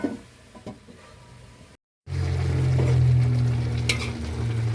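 Sinugaok sizzling loudly with tomatoes in a hot pan, steady frying hiss after a brief gap, with occasional spoon knocks and stirring scrapes close by.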